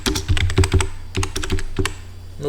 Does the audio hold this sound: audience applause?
no